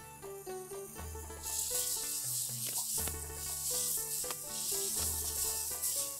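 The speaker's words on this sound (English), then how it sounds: "The oil is nice and hot and I'm going to add a teaspoon of garlic paste." Garlic paste sizzling in a pan of hot oil, a steady hiss beneath louder background music.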